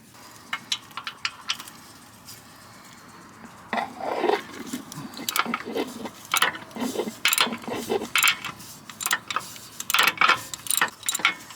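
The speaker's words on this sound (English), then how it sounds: "You can see that plug right above the oil filter. I'm gonna take that out" Drain plug above the oil filter on a Chevy 2500 350 engine being unscrewed with a ratchet, rapid close metallic clicks and pawl ticks coming in uneven bursts, loud and with no talking.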